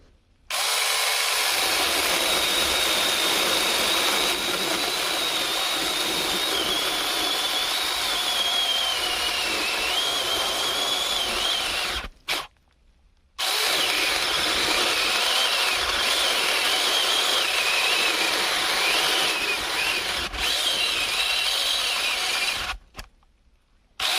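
A small two-stroke chainsaw engine drones loudly at steady high revs, cutting out briefly around the middle and again near the end.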